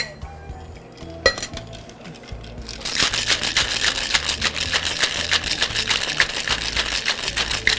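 A brief clink of glass and ice, then rapid, rhythmic rattling of ice and Ketel One vodka inside a cocktail shaker, loud and close.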